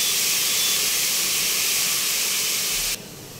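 Pieces of ash gourd frying in a pan for a coconut dish, a strong continuous sizzling hiss that holds steady and then drops to a quieter level near the end.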